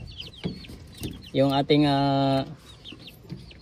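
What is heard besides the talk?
native heritage chickens and roosters clucking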